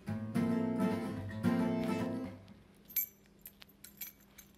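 After a few sustained musical notes, a bunch of keys jingles in short, light metallic clinks, scattered and fairly close, ending in a quiet background.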